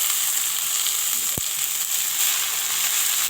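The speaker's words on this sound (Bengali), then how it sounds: "পাট শাকটা একটু একটু করে এই পেঁয়াজ লঙ্কার সঙ্গে ভেজে নেব" Steady, loud sizzle of jute greens frying in hot oil with onion and chilli, a continuous crackling hiss up close with one sharp tap partway through.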